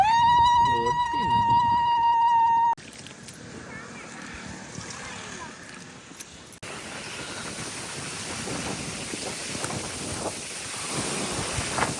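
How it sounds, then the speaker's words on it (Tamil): Strong wind roaring at an outdoor temple site, a steady broadband rush that swells louder in the second half after an opening stretch of tonal sound. "காத்து பயங்கரமா"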